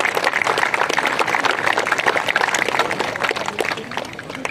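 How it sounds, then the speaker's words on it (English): Sustained clapping from a crowd at a middle school eighth-grade promotion ceremony, a dense, steady patter of applause that holds for several seconds and eases slightly at the end. "let's give all the people here that have supported you a round of applause"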